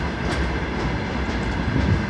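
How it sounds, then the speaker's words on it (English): A freight train rumbles past close by at Kouvola railway station in Finland, low and heavy, with rhythmic clickety-clack of wheels over rail joints and occasional metallic squeaks. "There's the freight train."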